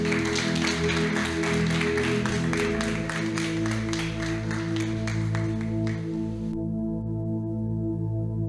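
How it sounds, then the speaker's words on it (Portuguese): A church congregation at a Bible study claps for a pastor, a sustained crowd applause over a steady musical backing that ends abruptly with the music lingering alone. "Você pode aplaudir pela vida dele?"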